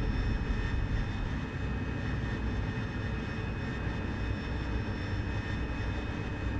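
An AV-8B Harrier jet in the DCS flight simulator, with its engine in a loud, steady roar as the aircraft prepares for takeoff. The broad, unbroken whine holds constant throughout without voices.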